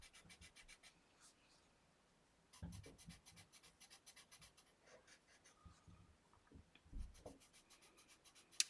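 Colored pencil scratching on paper while filling a mystery mosaic coloring book, quiet repeated short strokes in bursts with a pause, close and soft.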